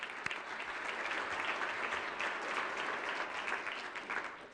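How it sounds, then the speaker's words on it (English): A large audience at a city's annual state-of-the-city address applauds in a full, sustained round that swells slightly and then tapers near the end, with no talking. "So let's give another round of applause for that."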